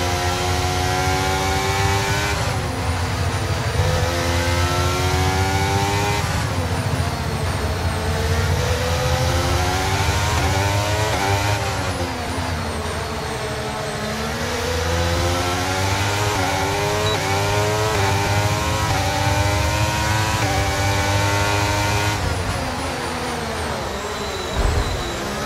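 Simulated Formula 1 engine from F1 23, driving an Atlas GRT Mercedes at the Netherlands GP, screams at high pitch and climbs steadily through the gears, a continuous loud whine with brief dips at upshifts and no talking.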